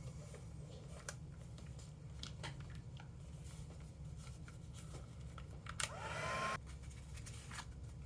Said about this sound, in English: So let me try the heat tool.